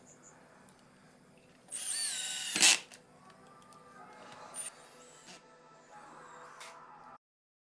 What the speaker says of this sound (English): I clamp them down and put 2 screws on each side